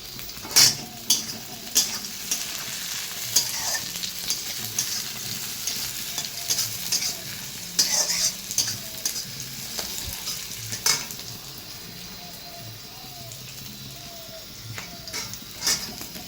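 Young green jackfruit pieces fry in a pan with a steady sizzle, while a spoon stirs and taps against the pan in irregular clicks and scrapes close by.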